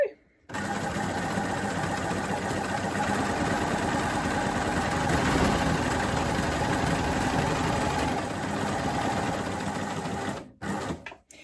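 A coverstitch sewing machine stitching plaid fabric for a satchel bag, a steady fast mechanical whirr running unbroken for about ten seconds before stopping, close and loud.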